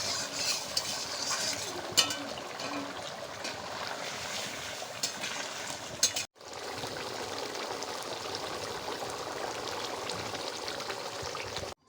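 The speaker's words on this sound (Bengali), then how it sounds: "দেখো আমরা 5 থেকে 7 মিনিট পরে ঢাকনাটা খুলে একটু নেড়ে দেবো" A spoon stirs mutton curry in a pot for a village-style dish, making a continuous wet churning and scraping with a brief break partway through, close up and without talk.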